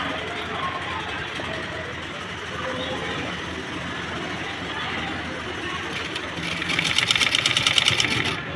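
A sewing machine runs steadily while stitching a blouse, its mechanical whir continuous and close, growing a little louder and more rattling toward the end, with someone talking over it.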